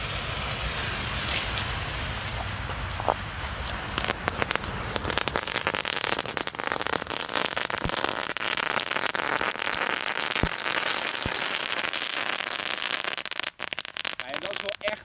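Category 1 strobe fireworks, most of a pack lit together, crackle and pop in a dense, continuous burst of rapid sharp snaps lasting throughout, loud and close.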